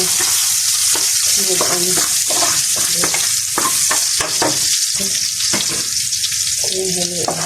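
Onions fry steadily in a pan on the way to a beef noodle pasta, a loud continuous sizzle broken by stirring scrapes, while a person talks briefly over it.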